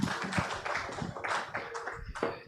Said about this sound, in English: Please a round of applause again for this wonderful panel.